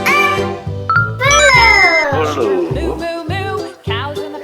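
Loud, close meowing in long, drawn-out sliding cries, with a light tinkling chime in the background.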